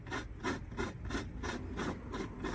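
A part of a drag-racing project car is unscrewed with a wrench, giving a steady rhythmic ratcheting rasp of about eight even strokes, close and alone with no talking.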